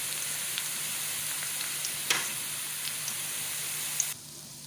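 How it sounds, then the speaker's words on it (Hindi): Chopped cabbage, potato, carrot and green chilli sizzle with garlic in a hot pan, a steady close hiss with a few faint pops that drops off abruptly near the end. "अब इसमें मैं सारी सब्जियां जो कटिंग करके रखी हैं वो सारी इकट्ठी डाल दूँगी।"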